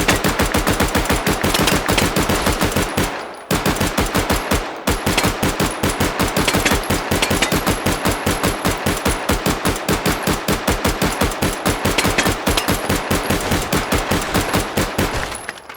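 Rapid sustained automatic fire from a Makarov pistol fitted with a drum magazine in Call of Duty: Black Ops, loud close shots in a steady fast rhythm with one brief pause.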